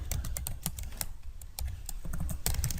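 Fast, close clatter of keystrokes on a computer keyboard while Java code is entered in NetBeans, irregular bursts with a brief pause midway.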